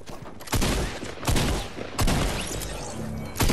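Video game gunfire in bursts: several sharp, loud shots and short volleys spaced across a few seconds, with no talk between them.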